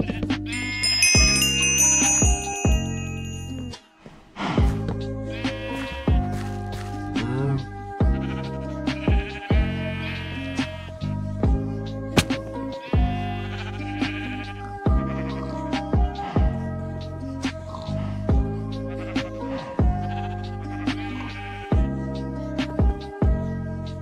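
Sheep bleat repeatedly in Minecraft, the game's blocky animal calls rising over steady background music throughout the farm scene, with several bleats close together.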